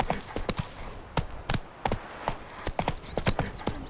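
Roach, a horse in the video game The Witcher 3, runs with crisp rhythmic hoof clip-clops on hard ground, close and clear, with birdsong in the background and a short whinny.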